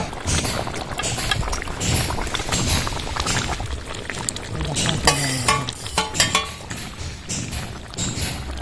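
Fried chela fish tipped into a simmering potato curry, giving clattering scrapes and a stirring, bubbling simmer with sharp utensil knocks near the middle, close and moderately loud.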